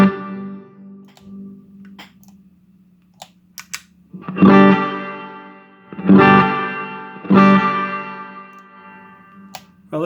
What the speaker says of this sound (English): I'm gonna hit the size button to see if it's more similar to the Sonicake. So it's a long reverb trail.